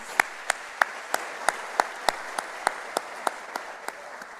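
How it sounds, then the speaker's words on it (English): Students of an incoming international MBA class clap together at an opening ceremony, the applause coming as a steady patter of sharp individual claps that carries on throughout without speech. "Give yourselves a round of applause."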